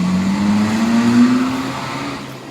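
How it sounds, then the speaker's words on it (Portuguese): An old VW Gol with a holed exhaust revs loudly and nearby, its engine tone climbing steadily before easing off into a rougher idle. "Muito obrigado, golzinho velho com o escapamento furado."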